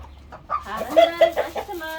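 Chickens in a coop give a few short clucks and squawks in quick succession, close by and fairly loud against a quiet low background hum.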